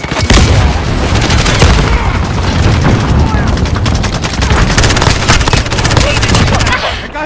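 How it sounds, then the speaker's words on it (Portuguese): Dense, loud battle in Call of Duty Modern Warfare, with rapid gunfire crackling continuously and heavy booming blasts from a grenade explosion mixed into the din, close and unbroken throughout. "Jogando granada!"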